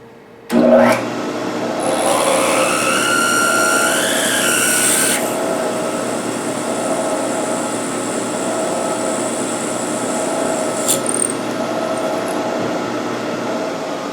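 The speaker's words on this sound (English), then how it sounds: "that's a number 1 drill bit" A drill with a number 1 bit bores a hole steadily for a few seconds with a rising whine, then the bit keeps grinding more quietly for a long stretch, with a brief click near the end.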